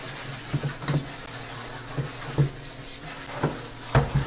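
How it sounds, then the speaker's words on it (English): Water running from a tap while a Graco PowerFill 3.5 cordless loading pump is rinsed clean, a steady wash of flow broken by intermittent clanks and splashes of parts being handled. "I'm gonna turn this water on, Ray"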